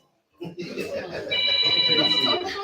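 A phone rings with a steady electronic tone during a lively gathering, sounding under loud overlapping talk and background chatter for the second half of the moment.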